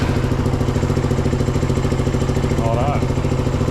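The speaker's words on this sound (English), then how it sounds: "We'll see if the bike will start, see if we get an engine light." A motorcycle engine runs at idle after starting during fault finding for error codes, a steady close mechanical chugging with a faint rising whine near the end, heard continuously throughout.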